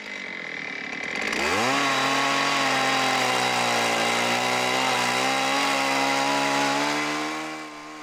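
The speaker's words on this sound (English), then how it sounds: "The first job was to remove the excess wood with a chainsaw" A chainsaw cutting hardwood for Indian club blanks revs up from quiet to a loud, steady buzzing roar and runs continuously, close by, easing off slightly at the end.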